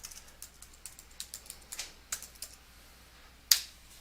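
Keystrokes tapped on a computer keyboard while entering commands in a Linux terminal, a light irregular series of clicks ending in one sharper, louder key press.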